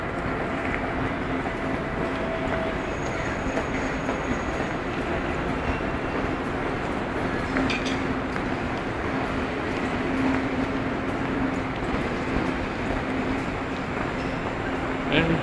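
Bullet train at a busy station, a steady broadband rumble of rolling stock and station machinery continuing throughout with faint background voices mixed in.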